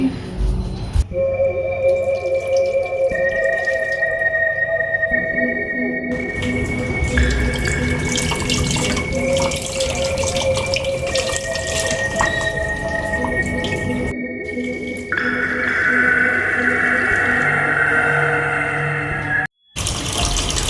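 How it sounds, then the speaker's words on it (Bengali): Water gushes steadily from a kitchen tap that will not shut off, a loud continuous splashing into the sink with a few brief pauses and shifts in tone near the end. "দেখ না কলটা বন্ধ হচ্ছে না"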